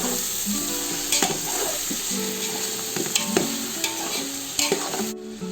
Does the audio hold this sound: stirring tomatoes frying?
yes